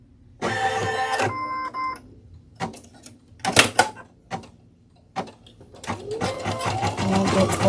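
A sewing machine stitches a small flower onto a sugar skull mask, its motor running in several short bursts with pauses between them, then starting a longer, steadier run near the end.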